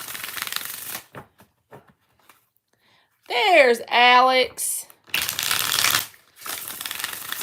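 Tarot cards are shuffled in quick riffling bursts at the start and again near the end. Between the bursts a person speaks briefly.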